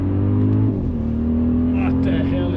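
A 2025 Audi RS Q8 Performance accelerates out of a turn on the Nürburgring, its engine holding a steady, loud, close drone that dips briefly and then climbs again, with a voice talking over it.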